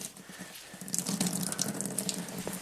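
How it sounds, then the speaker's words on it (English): Water sprays onto the windshield of a 2017 Ford Transit van, a steady hissing gush that swells after the first second and runs on close by, with no talk. "we can spray the windshield with some water"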